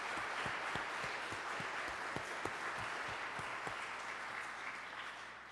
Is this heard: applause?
yes